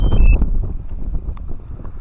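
Strong wind blows outdoors at an open site too gusty to fly a drone, buffeting the microphone with a loud, continuous low rumble.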